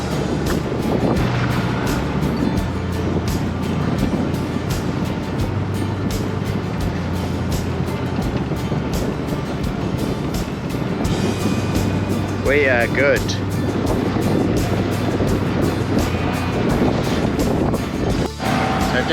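A sailboat motors through white water in Havannah Pass, the engine revved up under buffeting wind and rushing, splashing waves, while someone talks briefly over the noise.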